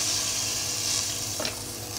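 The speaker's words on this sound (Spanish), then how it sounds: "Vamos a ingredir el ingrediente estrella, el que le va a dar el gusto al encocado, la leche de coco." Coconut milk poured into a pan of sautéed seasonings for a fish encocado, giving a steady close sizzle and hiss with a short gurgling pour partway through.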